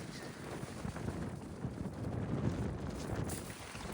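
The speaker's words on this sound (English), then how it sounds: "Very windy today, so it's been windy for a while." Wind gusts rumble against the microphone beside a mango tree in Apopka, Florida, a faint but continuous blustery roar that swells slightly midway.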